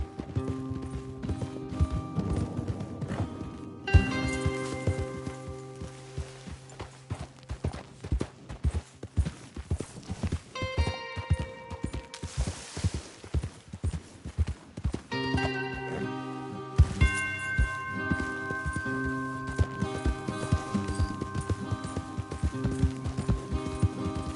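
Several horses in Red Dead Redemption 2 clip-clop at a gallop across open ground, a steady dense drumming of hooves close by, with an occasional whinny and faint music or ambience underneath.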